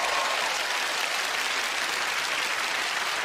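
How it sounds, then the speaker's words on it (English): A studio audience at a magic competition show breaks into a warm round of applause, a dense, steady roar of clapping that holds at full strength for the whole stretch with no voices above it. "A warm round of applause will follow you up here."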